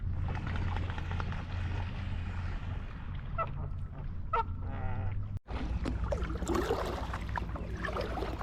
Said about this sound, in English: a bunch of geese are right over there. Sorry about that noise